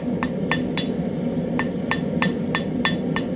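Small metal piece hammered to a point at the edge of an anvil for a Viking spiral pendant: about ten sharp ringing strikes in a quick, slightly uneven rhythm over a steady low hum, close and with no speech.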